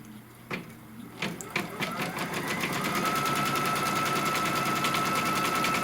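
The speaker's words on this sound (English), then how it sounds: "what's going to stitch off first is the placement line for our batting" An embroidery machine stitches the batting placement line for a quilt block, starting with a few clicks and then settling into a steady, rapid mechanical chatter, close and continuous.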